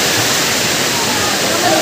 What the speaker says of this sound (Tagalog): Pag ganyang malagaslas tayo, ano yan? Mababaw lang yan.